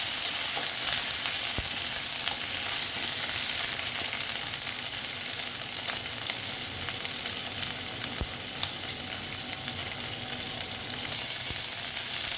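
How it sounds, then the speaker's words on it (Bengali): Pointed gourd slowly fries in oil, an even, unbroken sizzle heard up close, with a couple of faint clicks from stirring. "দিয়ে পটলগুলো আবার আস্তে আস্তে ভেজে নেব"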